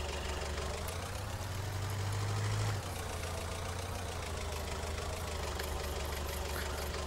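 A tractor engine idles in Farming Simulator 19 with a steady, low mechanical drone and a slight knocking texture. A brief rise in pitch comes early, then it settles back to an even idle. Nobody speaks.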